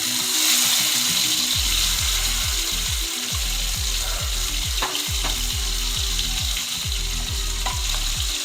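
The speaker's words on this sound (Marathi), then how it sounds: "मसाला चांगला फ्राय करून घ्यायचा" An onion-coconut masala paste frying in a pan for a matar paneer dish, a steady loud sizzle with rhythmic scraping strokes of a spatula repeating about twice a second, no talking.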